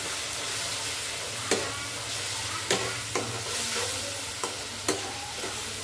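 Chicken frying with turmeric, chili, cumin and salt gives a constant close hissing sizzle, broken by several sharp spatula scrapes against the pan at irregular intervals, with no voices.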